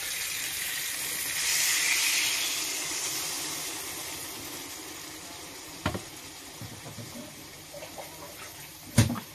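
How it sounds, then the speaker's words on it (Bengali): Water poured into a hot pan of fried spices and kohlrabi gives a brief rushing hiss of steam that fades into a low simmer, with a couple of soft knocks near the end. "এখন জল দিয়ে দিচ্ছি।"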